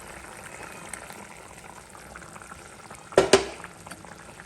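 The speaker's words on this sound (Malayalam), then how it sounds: "നന്നായിട്ട് തിളച്ച് വെന്തിട്ടുണ്ട് കേട്ടോ." A pot of curry simmers at a rolling boil in a home kitchen, giving soft, quiet bubbling throughout. Two brief louder clatters come near the end.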